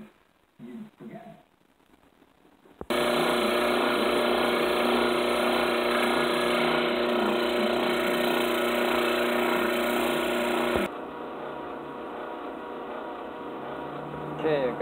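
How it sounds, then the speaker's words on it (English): Hyalite opal in ironstone matrix is ground flat on a 600 grit polishing wheel, a loud steady whirring drone that starts suddenly after a few seconds of quiet handling and runs for about eight seconds before dropping away. "we're going to polish that bottom, get it nice and flat, and use our 600 grit"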